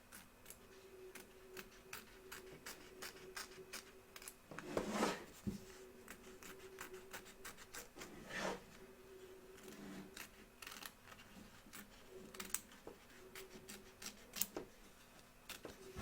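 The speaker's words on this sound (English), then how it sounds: "Trim away the excess fabric from both back and front of your hoop." Scissors trim excess appliqué fabric from both sides of an embroidery hoop, faint quiet snips and rubbing scattered through a steady low hum, close by with no talk.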